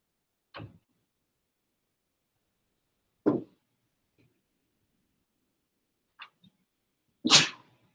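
Several sharp sneezes break the quiet of a high school American history classroom, four short bursts spread over a few seconds with the final one the loudest and brightest, fairly close and with no talking around them.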